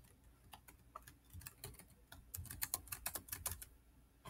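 Quiet clicks of a computer keyboard as keys are pressed while working in Google Sheets, with scattered taps that quicken into a faster run of keystrokes near the end, close but faint.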